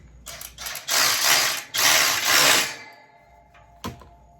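A ratchet tightening bolts on a custom undermount trailer ramp bracket, with close, rapid clicking bursts in two long runs and then a single short click.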